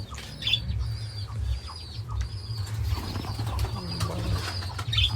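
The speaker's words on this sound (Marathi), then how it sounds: "इथं कबूतर आहेत आपली घरातली." Domestic pigeons kept at home near chickens give soft, low, repeated coos over a steady low hum, with a few brighter chirps and rustles from other caged birds.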